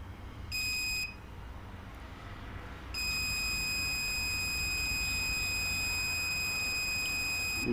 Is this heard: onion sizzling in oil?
no